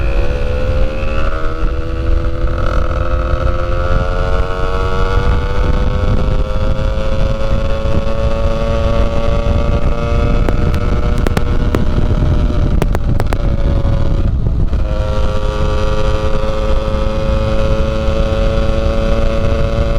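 A 70cc Top-engine motorcycle fitted with a KRM 70/80 exhaust revs loud and close, its two-stroke whine climbing and holding, easing briefly around the middle before rising again, with wind buffeting throughout.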